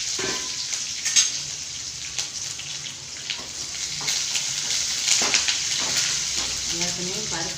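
Mustard seeds and spices for tempering sizzle and crackle steadily in hot oil in a home kitchen, a continuous close frying hiss with occasional pops, a voice speaking over it.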